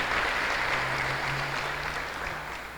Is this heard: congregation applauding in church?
yes